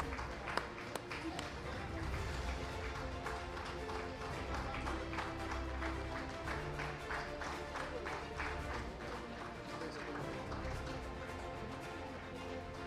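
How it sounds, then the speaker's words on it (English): Audience applause for award winners at a mining awards ceremony, sustained dense clapping from a large hall crowd that holds steady for several seconds, moderately distant. "Please give a round of applause to all our winners today."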